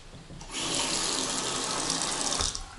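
Water pours steadily from a tap in an apartment bathroom with a large bathtub, starting abruptly and running as a loud, continuous hiss before cutting off near the end.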